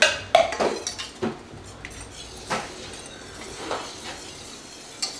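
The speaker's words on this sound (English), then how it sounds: "And we're just going to whisk this until it thickens up." A whisk stirs a creamy sauce in a pan for pesto chicken lasagna rolls, making irregular metallic clinks and scrapes against the cookware, close by with quiet gaps between strokes.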